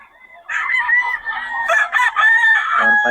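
A young gamecock crows loudly and close at a cockfighting-bird market in Bocaue, one drawn-out crow with a raspy, wavering tone and slight clucking after, with no talk over it.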